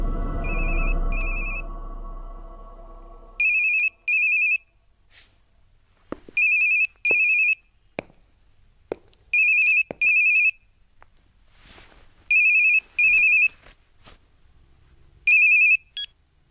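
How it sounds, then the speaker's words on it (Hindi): A mobile phone ringtone repeats in short electronic bursts, with quiet gaps between them, after a brief low rumble at the start. "यशवंत को मोबाइल पे फोन लगाओ"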